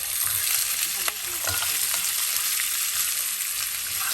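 Beef with bottle gourd frying in a pan, a steady close sizzle with occasional stirring scrapes, no voices.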